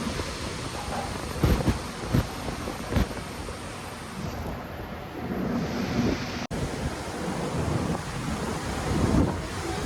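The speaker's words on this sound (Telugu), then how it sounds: "డ్యామ్లో వాటర్ లెవెల్ పెరగటం వల్ల చూడండి వాటర్ చాలా వేగంగా వస్తుంది" Water rushing fast from a dam with a raised water level during rain, a heavy roaring wash with gusting wind buffets and rumbling surges throughout.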